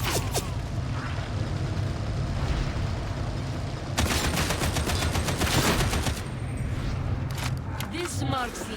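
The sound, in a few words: enemy ranged gunfire in Darktide 40K video game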